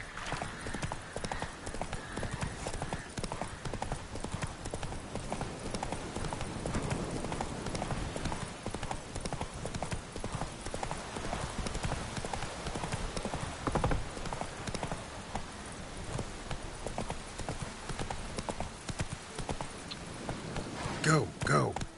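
Roach the horse gallops in The Witcher 3, a fast, continuous drumming of hooves on the ground that runs throughout under game ambience, with someone speaking over it at times.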